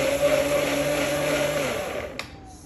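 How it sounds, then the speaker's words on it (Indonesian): A kitchen blender whirs with a steady motor hum while mixing a Herbalife aloe tea shake made with fruit, then cuts off with a click and quick spin-down. "Yuk kita blender yuk."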